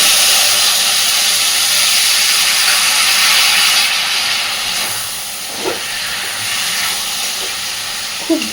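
A splash of water hits hot frying spices for potato ghugni, producing a loud, steady steamy hiss that eases slightly halfway, with a few faint stirring scrapes near the end.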